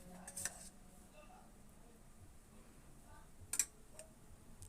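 Fish being served into a bowl with a piece of mango: a couple of sharp utensil clinks against the bowl, spaced apart, over a low kitchen background.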